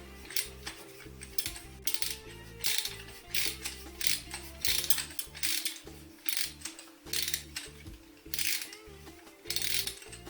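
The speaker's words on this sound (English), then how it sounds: "turn the cutter knob 360 degrees. This sets the mode for ratcheting." A ratcheting tube cutter being turned around metal tubing for fuel or hydraulic line fabrication, giving a quick series of sharp mechanical clicks in uneven bursts, close and fairly quiet, with no talking.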